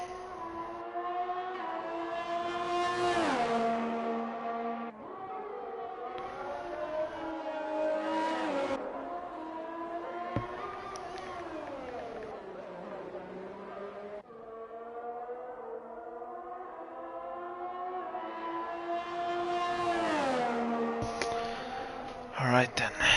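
An esports sim-racing car laps the Emilia Romagna Grand Prix circuit, its engine note climbing in long whining upshifts, dropping on braking and rising again, loud and continuous throughout.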